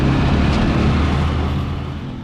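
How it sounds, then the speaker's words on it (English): A bumpy tuk-tuk ride along a road in the Mekong Delta in Vietnam, with a steady, loud engine drone and rumble that fades slightly toward the end. "And now a turbulent tuk-tuk ride to a coconut candy factory."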